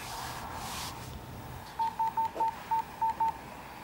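Seven evenly spaced telephone keypad tones, short clear beeps in a steady rhythm at moderate loudness, following a soft whooshing background with no speech.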